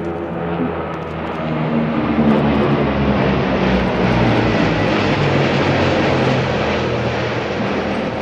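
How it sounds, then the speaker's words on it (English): A Tupolev Tu-95 bomber passes overhead during an air show flypast at Zhukovsky, its engines giving a loud, sustained, throbbing drone with a low pulsing beat that swells slightly and stays strong throughout. "Followed by the Tu-95 and its characteristic engine sound."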